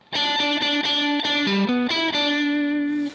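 Distorted electric guitar plays a short lick, a quick run of sustained notes up high on the neck with a bend near the middle, loud and clear with no talking.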